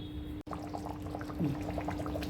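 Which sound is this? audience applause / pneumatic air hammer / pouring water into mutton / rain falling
pouring water into mutton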